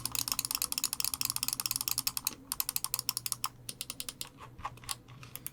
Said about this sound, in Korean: 먼저 클릭음 들어볼게요.